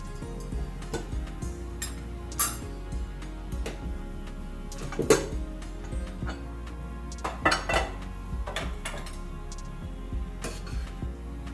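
Metal pots and lids clank and scrape intermittently as a cooled pressure cooker of lentils is opened, against each other and a stovetop, close by, with scattered sharp clinks.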